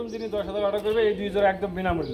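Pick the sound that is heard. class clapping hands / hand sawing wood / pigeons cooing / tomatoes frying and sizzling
pigeons cooing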